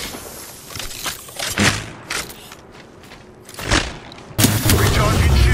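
Bursts of gunfire in an Apex Legends battle hit in uneven clusters, loud and near, with heavy thumping impacts and a sustained volley at the end, set against in-game voice lines.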